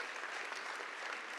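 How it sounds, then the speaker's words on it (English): Dense, steady applause from the audience at a spring benefit event, a continuous wash of clapping with no break. "So now give them a proper round of applause."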